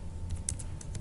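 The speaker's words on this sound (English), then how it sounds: "Type in just the username" Keys tapped on a computer keyboard while a username is entered, a few quiet light clicks over a low steady background hum.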